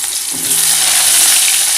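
Large-cut onions frying in hot oil left from browning potatoes, a loud, dense, close sizzle that runs continuously with faint stirring, and no voices.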